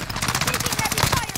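Rapid automatic gunfire rattles in quick succession in the Warzone Rebirth Island video game, a short dense burst layered under game sounds.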